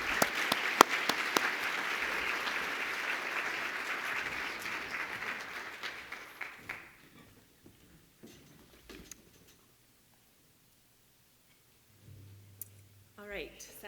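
Audience applause welcoming a keynote speaker at a sustainable communities conference, a dense clapping crowd for about seven seconds that thins into scattered claps and fades to near silence, followed by faint stage noises.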